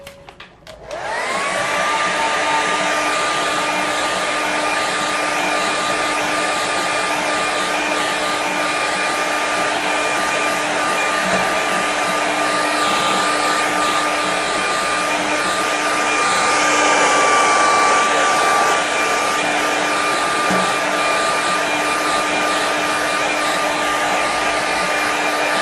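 A hair dryer blows steadily on a loose watercolour seascape painting, a loud continuous whine and rush of air that runs unbroken for the whole stretch, swelling slightly partway through, with no talking.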